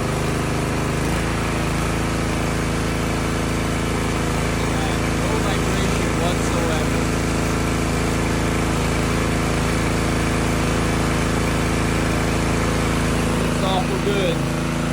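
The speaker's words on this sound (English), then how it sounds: "That's a Craftsman rear tine tiller." A replacement engine runs steadily on a Craftsman rear tine tiller, a loud, even small-engine drone with no change in pace, lasting throughout at close range.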